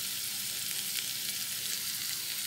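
Brinjal thokku sautéing in a pan with asafoetida added, a steady close sizzle and crackle of frying that continues without pause and without talk.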